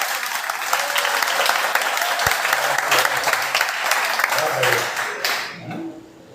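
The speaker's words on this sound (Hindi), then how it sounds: "ताली बजाओ।" A class of students claps together in sustained, dense applause after reciting a Jain doctrine lesson, with a few voices mixed in, before the clapping fades out near the end.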